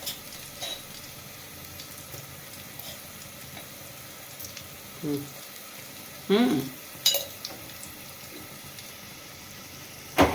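Turmeric being stirred into pepper rasam in a pot, giving soft, irregular scraping and liquid stirring sounds with a faint sizzle, a few sharper clinks near the end, and no talk.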